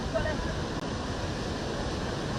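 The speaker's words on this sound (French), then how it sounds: "Face à la mer, Ousseynou Diop fixe le déferlement des vagu" Ocean waves break on a seashore where a fisherman stands facing the sea, a steady, dense roar of surf with no break and no voices.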